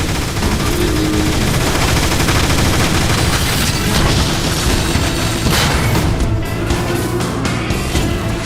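Sustained, loud gunfire from Transformers: War for Cybertron, with dense overlapping shots and booming blasts that continue steadily throughout.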